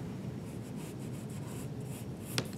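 A pencil sketches an oval on a sheet of paper, giving a soft, continuous scratchy rubbing close to the mic that runs the whole time and ends with one brief sharper tap.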